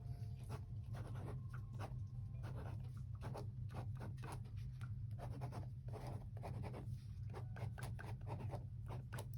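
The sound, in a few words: pen writing text on watercolor painting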